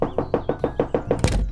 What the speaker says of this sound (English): She nervously reaches out to the door and knocks.